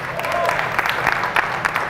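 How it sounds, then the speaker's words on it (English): Audience clapping at a Veterans Day 2016 gathering: a brief patter of scattered hand claps from a moderate-sized crowd, close and steady, with a voice underneath. "You can clap."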